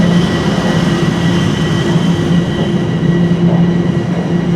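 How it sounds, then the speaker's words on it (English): Train rolling slowly out of Union Station in downtown Toronto on a light-rain fall day, a loud steady rumble with a low hum and faint metallic squeal, continuous and close. "slowly rolls a train out of the station."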